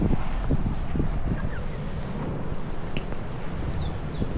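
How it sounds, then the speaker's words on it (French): Strong wind in Guadeloupe roars steadily across the microphone with a dense, blustery rush, broken by faint higher chirps and gusts. "Waouh, il y a du vent en Guadeloupe."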